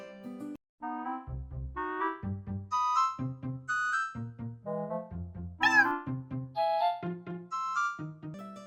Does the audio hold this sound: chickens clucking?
no